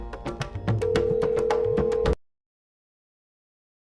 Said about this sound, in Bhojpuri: लगावा फोन।